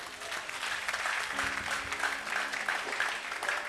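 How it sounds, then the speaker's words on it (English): A church congregation claps together in sustained, even applause, a steady wash of many hands at moderate loudness with faint voices underneath. "Clap for Jesus,"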